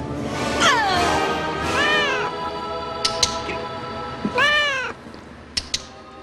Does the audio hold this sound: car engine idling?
no